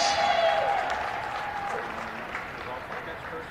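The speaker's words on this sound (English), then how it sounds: "a big round of applause for number 24, Sierra Bermudez." Crowd applause at a California (PA) vs Edinboro basketball game as a player is introduced, a steady wash of clapping that starts strong and slowly fades, with an announcer's voice over it at the start.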